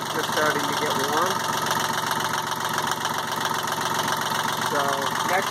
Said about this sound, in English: this is just a cold start of 30 horsepower Yanmar diesel